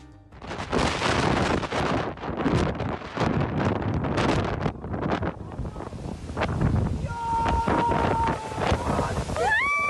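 Storm Gloria batters the Mallorca shore with strong gusting wind buffeting the microphone and crashing surf, loud roaring bursts that ease into a calmer stretch with faint tonal sounds near the end.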